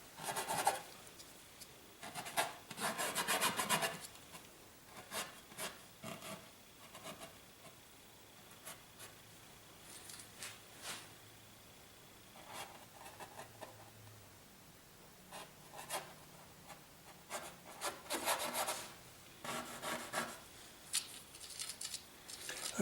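Scrubber brush rubbing and scratching paint onto canvas for a landscape of Yankee Boy Falls, in close, soft bursts of dry scraping strokes with short pauses, no voices.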